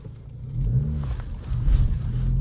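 A Honda Civic Si with a 6-speed manual pulls away from a full stop in first gear, its engine note rising in a mid-pitched rev, close and steady with no talk.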